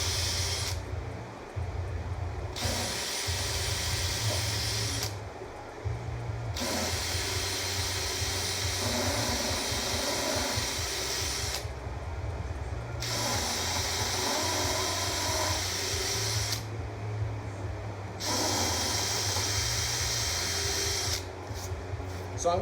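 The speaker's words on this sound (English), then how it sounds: "make sure you hold your drill really straight when you're drilling." A handheld drill bores straight through wood in a car audio shop, a loud high whine running in several long bursts with short pauses between them.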